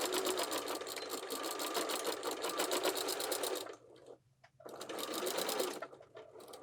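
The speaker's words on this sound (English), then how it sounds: "And keep on sewing." A sewing machine stitches a waist apron in a rapid, even mechanical whirr close by, running steadily, pausing briefly, then resuming.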